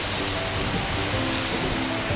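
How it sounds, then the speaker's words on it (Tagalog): Typhoon Uwan's wind and rain in Valenzuela City form a steady, dense roaring hiss, close and unbroken, with no voices. "muli na naman pong lumakas ang hangin at ulan"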